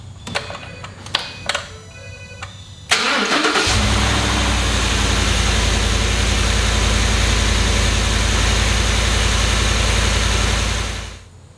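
A 2014 Ford Raptor first-generation pickup cranks over with a few sharp clicks, then its engine catches and settles into a loud, steady, low rumbling idle that runs unbroken for several seconds before cutting off.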